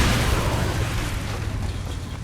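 A deep, rumbling blast with heavy low-end roar that slowly decays, an explosion in Far Cry 6, with no voices.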